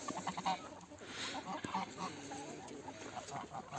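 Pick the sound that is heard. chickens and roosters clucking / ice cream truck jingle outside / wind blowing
chickens and roosters clucking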